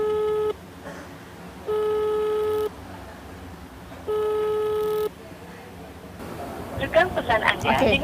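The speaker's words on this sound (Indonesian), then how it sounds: "Sayang sekali tidak tersambung, belum ada yang kemudian merespon panggilan telepon kami" Telephone tones on an unanswered call: three separate steady electronic beeps, each about a second long with gaps between, then a jumble of bright digital blips at the end, with no one answering.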